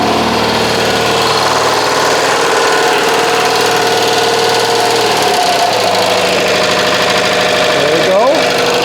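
A Citroën AZU van's small engine idles steadily and loud throughout, with continuous low vibration and a brief rising throttle change near the end, while people talk over it.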